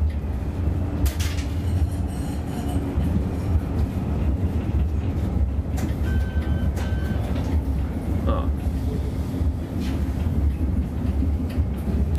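A tram rumbles past at moderate distance, a steady low roar of wheels on rails with a brief high squeal partway through.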